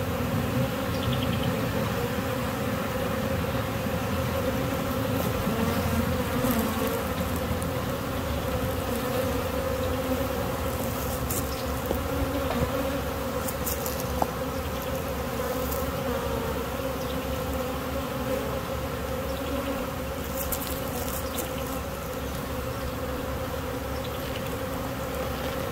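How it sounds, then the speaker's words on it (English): A caught honeybee swarm gathers around a bucket, making a dense, continuous buzzing drone that stays loud and steady throughout, with no voices. "The bees are coming to the bucket."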